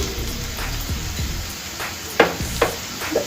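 Ivy gourd fry with chili powder and coriander powder stirred in a pan over low heat, soft steady sizzling broken by several sharp scraping strokes of a spoon.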